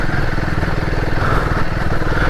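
Royal Enfield Himalayan 450 motorcycle engine chugging at low revs on a UK trail, a steady loud close thrum with rapid even pulses throughout.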